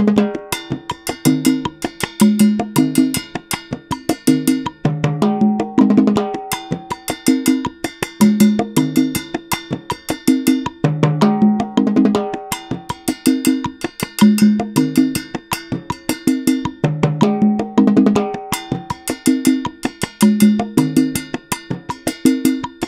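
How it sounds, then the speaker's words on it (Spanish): Timbales played alongside conga and clave in a Latin percussion groove, with ringing metallic strikes repeating in a steady looping pattern over warm drum tones, loud and continuous with no talking. "vamos a ver cómo suena con la conga y la clave."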